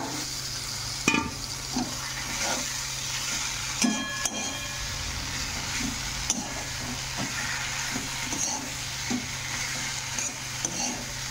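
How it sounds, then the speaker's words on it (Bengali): Vegetables for a duck curry stir-fried in a pan, a close steady sizzle with repeated scraping and knocking of a spatula against the metal at irregular intervals, no voices. "ভালো করে সবজিটারেও কষাইলামও, কষাইয়ার পরে ঝোল দিয়ে এলামও"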